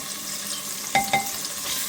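Garlic frying in a pan, a steady close sizzle with two brief clinks of a utensil against the pan partway through.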